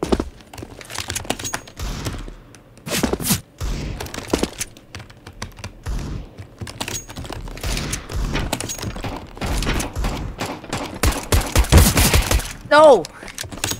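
Suppressed USP pistol in CS:GO firing sharp, muffled single shots at an irregular pace, mixed with keyboard clicks and occasional voices.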